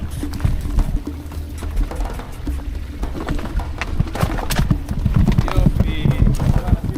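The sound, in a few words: donkeys' hooves clopping while crossing a stream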